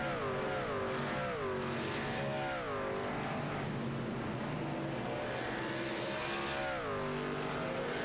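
Race trucks roar around the track on the opening lap of a truck series race, engines loud and continuous, rising and falling as several pass close by.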